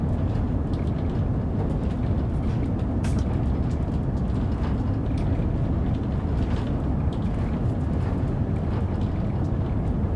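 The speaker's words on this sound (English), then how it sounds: "I would love to use the TGV on more routes. I do enjoy driving the TGV." A TGV high-speed train in a driving simulator game runs on the Southeastern High Speed line, producing a continuous, even low rumble of wheels and motors with no break.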